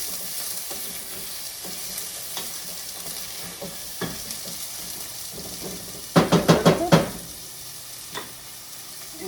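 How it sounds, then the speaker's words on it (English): Onions sizzling in a hot pan on a gas stove, a steady fry under occasional stirring and a quick burst of utensil clatter partway through. "So let's put the onions in. It's already hot. Loving my gas stove."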